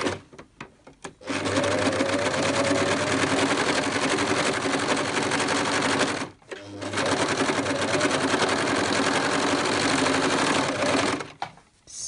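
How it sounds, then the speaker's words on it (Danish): An overlock serger runs in a long steady whir while stitching the crotch seam of toddler harem pants, pausing briefly once before starting again; close and loud, with no talking. "Så blev skridtsømmen syet sammen her på overlockeren, og jeg tager nummer 2 skridtsøm"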